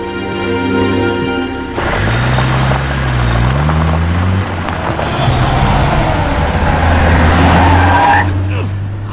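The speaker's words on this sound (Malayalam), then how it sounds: "നീ വണ്ടി എടുക്കടാ" A car starts up and pulls away, its engine rising loud and close with some tire noise, while people talk over it.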